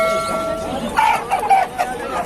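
Broiler chickens at a market in Dammam, Saudi Arabia, giving a few short clucks and squawks close by, over background chatter and people talking.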